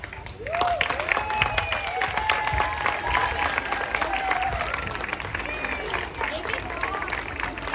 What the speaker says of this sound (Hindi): हम सिर्फ जोर से तालियां बजाएंगे उनकी मेहनत के लिए